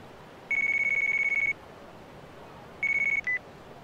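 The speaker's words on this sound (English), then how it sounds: "Sorry to call you first thing in the morning, Ichi." In the video game Yakuza: Like a Dragon, a telephone rings with a steady electronic trill lasting about a second, goes quiet, then rings briefly again before a short tone, clear and alone.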